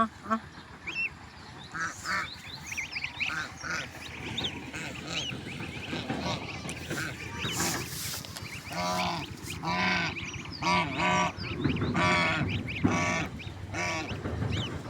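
A mother duck with her young ducklings quacks loudly and repeatedly in a farmyard, harsh calls overlapping with goose-like honks from the flock, close and persistent throughout.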